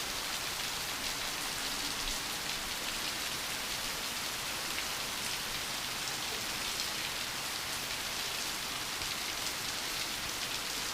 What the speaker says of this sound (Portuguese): Chuva boa, graças a Deus.